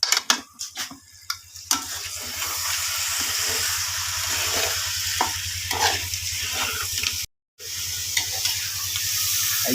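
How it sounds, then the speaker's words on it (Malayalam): Half-cooked fried chicken being stirred into biryani masala in a pot, with steady close frying sizzle and scraping stir strokes throughout, a few louder clanks early on and a brief dropout near the end. "നമ്മൾ വറുത്ത് വെച്ച പകുതി വേവിൽ വെച്ച ചിക്കൻ ഉണ്ട്, അത് തട്ടിക്കൊണ്ടിരിക്കണം"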